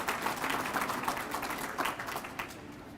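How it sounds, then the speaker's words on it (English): Applause greets a union chairperson at a county grand opening, a fairly quiet, scattered patter of hands from a modest crowd, tapering off near the end. "Give him a round of applause"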